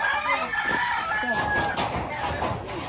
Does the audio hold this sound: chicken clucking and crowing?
yes